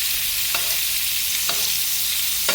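Filet mignon basting in a hot pan with fat, a steady loud sizzle throughout, with a couple of brief spoon clinks as the fat is ladled over the steak.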